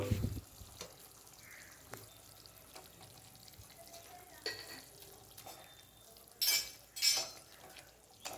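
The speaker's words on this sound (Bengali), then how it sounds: "এবার এটা ভালো মতো ফুটে গিয়েছে এই যে এবার মাছগুলো একটা একটা করে দিয়ে দিল" Fried fish pieces are set one at a time into boiling gravy for a home-cooked fish curry: faint, steady bubbling with soft wet plops, then a couple of brief louder splashing sizzles near the end.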